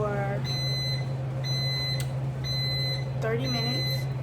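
Kitchen oven timer being set, a run of short high electronic beeps at steady one-second spacing over a constant low appliance hum, with a voice briefly underneath.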